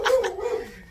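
A dog gives two quick, close barks followed by a short trailing whine, fairly clear against a quiet background.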